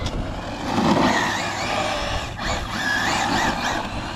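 Team Associated Hoonicorn 1/7 RC car driving and attempting a drift, a whirring electric motor rising and falling under steady tire noise, fairly close with no voices.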